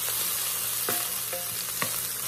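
Onions and garlic sautéing in a pan for a crockpot rump roast, a steady bright sizzle with a few soft stirring clicks, close and alone with no talk.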